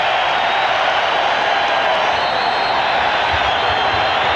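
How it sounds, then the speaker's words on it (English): Packed arena crowd at the 1996 NBA Finals Game 2, Seattle SuperSonics against the Chicago Bulls, roaring loudly in a dense, sustained wall of cheering that holds steady from start to finish. "And this crowd exploding."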